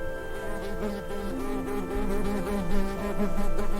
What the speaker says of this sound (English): Under a glass jar, besides the fenced-in goat on the table, a small wasp flew around angrily in circles.